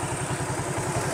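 A classic Suzuki motorcycle engine runs smoothly at idle, a close, even low throb with quick regular pulses and a faint mechanical clatter, steady from start to finish.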